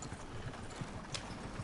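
Horse hooves clip-clopping inside a PS4 video game, a steady patter of soft hoofbeats under a low rumble, with an occasional faint whinny.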